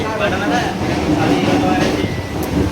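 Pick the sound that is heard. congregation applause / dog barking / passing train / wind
passing train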